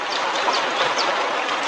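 Clear, clean river water in Nepal flowing steadily, a dense broadband rush with faint trickling detail throughout, close and even in level with no voices.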